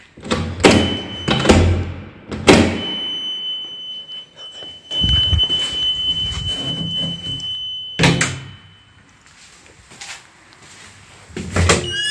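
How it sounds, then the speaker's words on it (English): A heavy secure door in an abandoned Tesco in Chatham thuds and clatters open, followed by a steady high electronic beep that sounds for several seconds, with more door thumps before and after. "very secure looking doors that still beep in a weird way when you open them"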